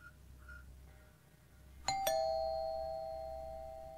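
A doorbell gives a sharp two-tone chime, ding then dong, the second tone ringing out and slowly fading over quiet room background.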